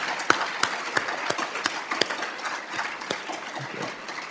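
A school audience claps for students at the close of a career and technical education awards ceremony, scattered individual claps standing out sharply over a soft, continuous bed of applause.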